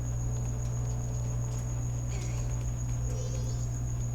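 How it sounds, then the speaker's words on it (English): A cricket chirping indoors in a house, a faint high steady trill running throughout beneath a constant low electrical hum, with no voices. "it would be the cricket. Even though he's not that loud, but I hear him"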